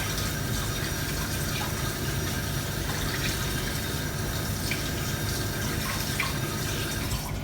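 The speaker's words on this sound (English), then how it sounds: "Now I'm going to wash the remainder mixture off my hands" Running tap water pours steadily into a sink as hands are rinsed of profiterole piping mixture, a constant close splashing hiss with no talk.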